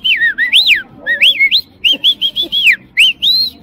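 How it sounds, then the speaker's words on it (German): A person whistles at a woman in a series of bright rising and falling notes in short bursts, close and loud, with brief pauses between phrases, at a protest outside a police station. "du pfeifst dir einer Lady nach"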